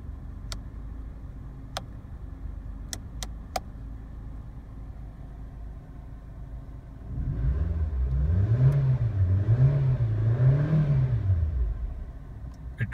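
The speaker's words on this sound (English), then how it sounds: "It revs keenly and the engine is really smooth." A Nissan Juke engine revs while driving, rising and falling in a few quick surges after a quiet stretch of cabin ticking, moderately loud and close with no talk.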